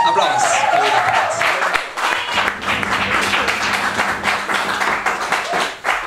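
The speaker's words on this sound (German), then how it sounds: "Applaus" An audience applauds a pianist at a live band concert, a bright clatter of clapping that settles into a steadier patter, with a low murmur of voices beneath.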